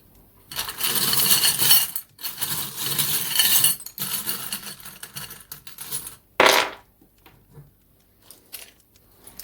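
Tarot charms and dice are shaken and cast, giving bursts of bright metallic clinking and rattling that come in several clusters. The last is a sharp landing clatter, followed by near-silence.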